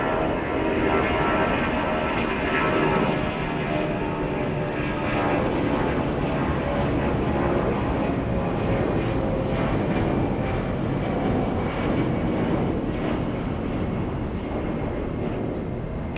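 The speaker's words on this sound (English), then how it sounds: "Looks like we have another 757 on the roll." Boeing 757 airliner taking off at Atlanta Hartsfield-Jackson airport, a loud continuous jet engine roar that holds steady throughout, heard from nearby without talking.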